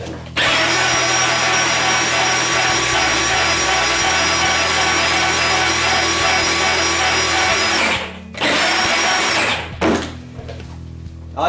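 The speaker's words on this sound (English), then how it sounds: "if we put this battery back in, excuse me, we should hear no more death whine" A Peg Perego John Deere Gator ride-on toy running after a gearbox overhaul, its motor and gears giving a loud steady whirring drone that cuts off briefly near the end, restarts, then drops to a quieter idle.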